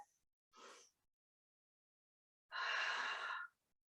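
Deep breath during a mat Pilates stretch: a short inhale followed by a longer, louder breathy exhalation, close and alone in a quiet room.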